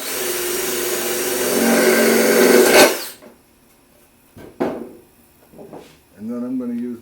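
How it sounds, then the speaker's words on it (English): A power drill whirs loudly and steadily for about three seconds, drilling a small hole in a rain gutter, then stops; a few soft knocks and a brief voice follow. "just drill a small hole right in the center here"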